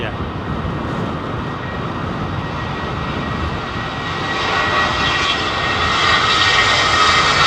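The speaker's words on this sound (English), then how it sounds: "Smoky start for a 767." Boeing 767 jet engine starting at London Heathrow, a steady broadband roar with rising whine that grows louder toward the end, continuous and fairly close.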